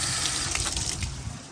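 Water gushes steadily from a solid stainless quarter-turn water heater drain valve on a boat lift platform, a loud continuous rush with no talking.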